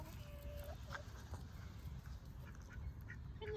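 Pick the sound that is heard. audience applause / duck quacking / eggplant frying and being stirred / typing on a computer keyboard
duck quacking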